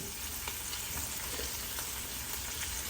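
Sea scallops sear in a hot pan with a dense, constant sizzle that stays even and close throughout, unbroken by any talk.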